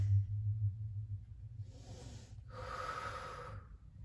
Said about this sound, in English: Inhaling, exhaling.